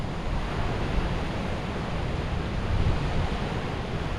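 Big sea waves churned up by a typhoon roar as a constant, dense rush of surf mixed with wind, loud and unbroken, with no voices.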